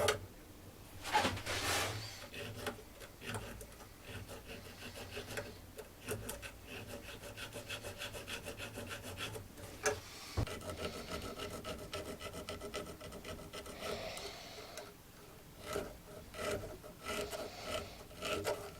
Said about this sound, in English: we are going to file that nice and square